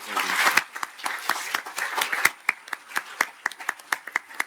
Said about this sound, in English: if we can all just give a round of applause to Tim for his wonderful